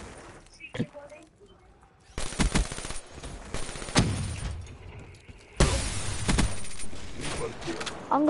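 Bursts of video game gunfire, likely rapid automatic shooting, come in loud stretches separated by quieter gaps, with a voice talking over parts of the action.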